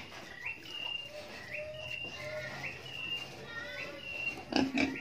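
Dark-coated pigs, some of them stunted, grunt and squeal in a pen in a steady series of short calls over constant farm background noise, with a louder burst near the end.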